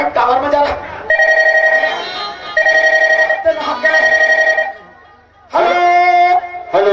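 A telephone rings in bursts during a Chhattisgarhi nacha gammat folk theatre performance, its bright electronic tones repeating in several loud phrases with short gaps, close and clear, with voices faintly present in the background.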